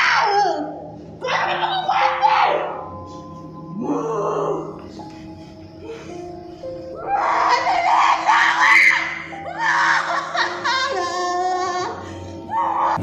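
A woman screams and wails loudly in a recording of a possession during a spiritual healing session at an ustaz's place, with high, shrill cries rising and falling in long bursts and other voices faintly around her.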